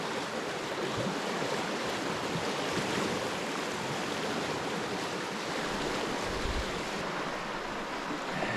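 A flowing stream where a hiker collects drinking water, a steady broad rush of water close by, continuous and fairly soft, with no voices.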